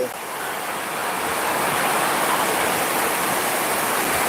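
Heavy rain pours down steadily at night, a dense, even broadband hiss that holds loud and constant throughout with no breaks or voices.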